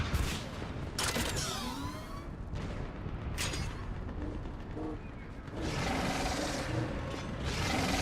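A mounted gun in Mass Effect 3 fires in sustained rapid bursts with heavy booms and mechanical clatter, set inside dense, continuous battle noise.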